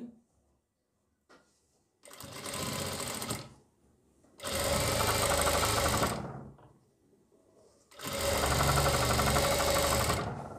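Sewing machine stitching a kitchen apron, three loud, close bursts of fast, steady whirring that each run a couple of seconds, separated by short pauses with faint handling of the fabric.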